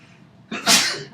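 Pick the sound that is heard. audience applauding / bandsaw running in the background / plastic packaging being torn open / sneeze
sneeze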